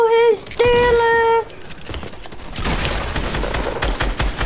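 Rapid gunfire in a video game, a dense rattling burst in the second half following a few electronic tones, with a voice partly heard around it.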